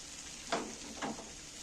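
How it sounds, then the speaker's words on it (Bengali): Spices with ground coriander are stirred in a pan among softened onion, green chili, tomato and boiled potato; a steady sizzle runs throughout, broken by two distinct scraping stirs about half a second apart. "এইবার আমি এই মশলাগুলোকে একটু ভালো করে নাড়াচাড়া করে নেবো"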